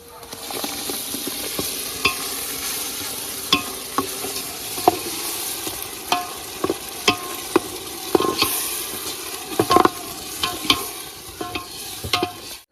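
Tomato gravy sizzles and fries with onions and garlic in a pan for a Mehsana-style tuver totha dish, with steady frying hiss under repeated scraping stirs and spoon knocks at irregular intervals, close and moderately loud.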